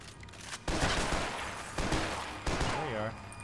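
In the video game Max Payne 3, bursts of gunfire crackle in dense rapid volleys at moderate loudness, with short gaps between clusters of shots and a voice briefly speaking near the end.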